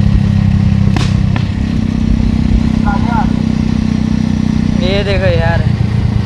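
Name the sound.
motorcycle engine running and riding past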